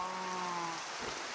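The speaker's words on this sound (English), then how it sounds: "Oh my god, now it's raining." Steady rain pattering in Minecraft, a constant broadband hiss of falling drops over a few faint sustained tones, continuous and fairly close throughout.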